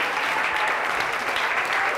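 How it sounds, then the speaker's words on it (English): An audience at the Plymouth Rock Comedy Festival gives a warm round of applause, steady, close and even clapping from many hands throughout. "Greg Murphy, give him a nice round of applause."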